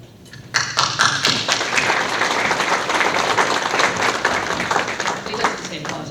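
At the Metro South Chamber of Commerce ATHENA Leadership Awards, an audience bursts into applause after a moment of quiet. The clapping is sustained, full and fairly close, with no talk over it.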